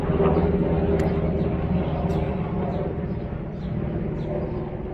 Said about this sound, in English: We got helicopters and everything going on.